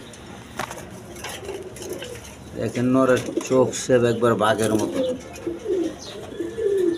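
A pair of Andalusian-coloured Danish pigeons coo in soft, throaty rolling calls close by, partly under someone talking in the foreground.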